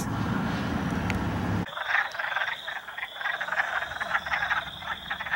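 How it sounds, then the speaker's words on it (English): Wood frogs croaking in a marsh beside a bike trail, a dense chorus of repeated clucking croaks, fairly close and continuous, following a brief burst of broad rumbling noise that cuts off abruptly. "It's a marshy area along the bike trail. Wood frogs."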